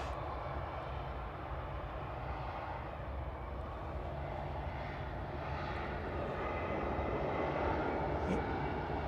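A fixed-wing airliner at Manchester Airport sends a steady, distant engine roar that swells slightly toward the end, a broad, constant rumble.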